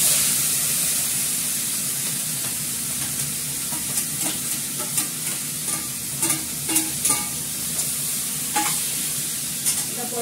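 Whole cloves crackle and fry in hot oil in a home kitchen, with a steady sizzle broken by sharp little pops that grow busier toward the end.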